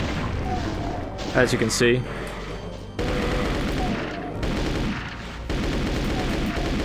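Doom II rocket launcher fire and explosions, a loud continuous roar of blasts and rumbling booms with a short burst of monster screeches, while someone talks over it.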